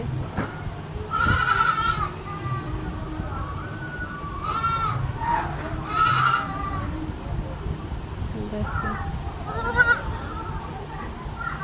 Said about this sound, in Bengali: ছাগলের ঘরটা দেখেন কত সুন্দর ছাগলগুলো